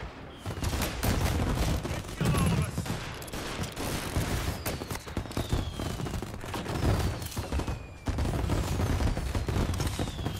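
Tommy gun bursts in the Mafia Definitive Edition video game, rapid automatic fire rattling in repeated loud volleys with short breaks, mixed with other gunfire and booms of a chaotic shootout.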